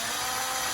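A power drill bores a mounting hole into the front of a 5th-gen Toyota 4Runner for a front-facing camera, a steady, loud, continuous whine with a gritty cutting texture throughout the short burst.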